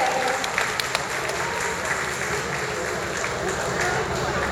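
A crowd applauds steadily throughout, dense clapping that holds an even level, with voices and cheering mixed into the din.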